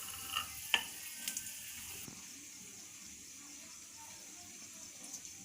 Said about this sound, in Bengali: তেল গরম হয়ে গেছে, আমি 5 ফোড়ন আর লঙ্কাটা ছেড়ে দিচ্ছি।